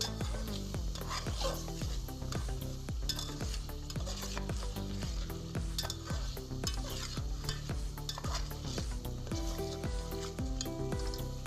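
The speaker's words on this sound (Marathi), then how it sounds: "कांद्याला हिरवी मिरचीच्या ठेच्यामध्ये चांगलं मिक्स करून घेतलंय" Onion stirred and fried in green chili paste for a Vidarbha-style brinjal curry: a spoon scrapes the pan in a steady rhythm over continuous close sizzling.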